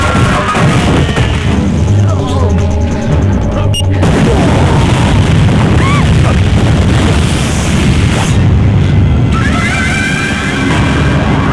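A bomb blast in a Bhojpuri action film scene, a deep boom hitting around the four-second mark amid a dense, loud soundtrack of rumbling score and effects that carries on steadily throughout.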